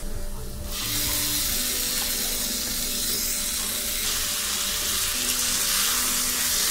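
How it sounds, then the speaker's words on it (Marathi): Chicken hits a pan of browned onions for chicken pulao, bursting into a loud, continuous sizzle that stays strong and even throughout, with no talking. "कांदा व्यवस्थित लाल झालाय,"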